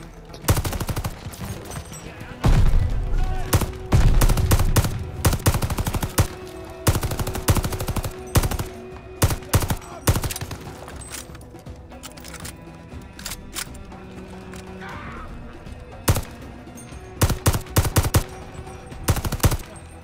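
Machine gun fire in a Call of Duty battle at El Alamein, loud bursts of rapid shots broken by short pauses, with scattered single cracks over about twenty seconds.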